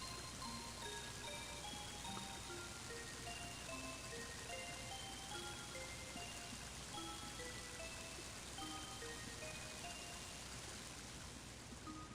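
Rain in the video game Mother 3 falls as a quiet, continuous hiss, with faint ticking droplet-like notes scattered evenly throughout.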